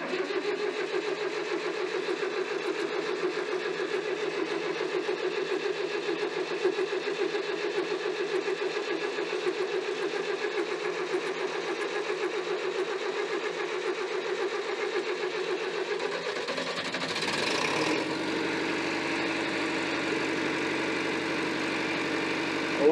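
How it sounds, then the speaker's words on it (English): A David Brown 990 tractor diesel engine runs at a steady, throbbing idle for a long stretch, then briefly surges as it catches or shifts and settles into a slightly different idle; no speech over it. "Such a unique sound for a tractor."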